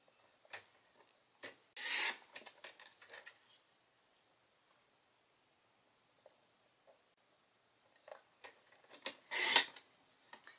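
Cardstock strips being cut for a handmade Easter card, a few brief close scraping and slicing strokes separated by long near-silent gaps, with no talk.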